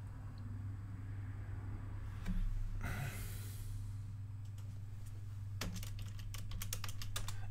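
Someone types on a computer keyboard, with soft scattered key taps followed by a quicker run of crisp clicks, over a low background hum and a brief whooshing noise.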